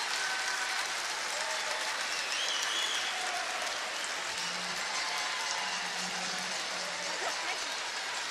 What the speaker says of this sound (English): It's nice the crowd still cheering for Anna Hasselborg and her team